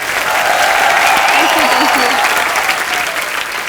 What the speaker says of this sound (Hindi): ऐश्वर्या के लिए जोरदार तालियां।